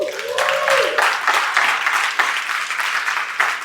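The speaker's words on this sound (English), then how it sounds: "Give him a round of applause." Audience applause at a leadership wildfire summit, a dense wash of clapping that holds steady throughout, loud and fairly close, with a brief voice near the start.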